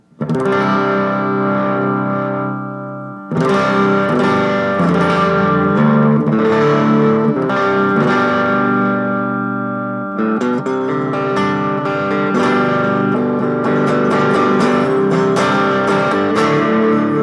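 A Gibson Les Paul electric guitar on its middle pickup, with the volume knob rolled off, plays sustained chords that ring close and loud, broken by two brief pauses, and ends in a flurry of quicker strummed notes.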